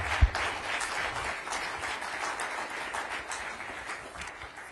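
An audience gives the US Health Secretary a round of applause at a mental health program announcement. The clapping is steady and moderately loud, with one sharp thump near the start, then an even patter continuing for several seconds.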